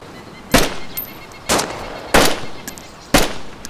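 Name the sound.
AK rifles firing single bursts in video game DayZ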